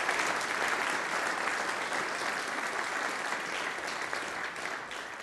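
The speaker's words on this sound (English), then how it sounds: "let's have a round of applause for our third graders." A church congregation applauds, dense and sustained clapping from many hands that holds steady and fades slightly toward the end.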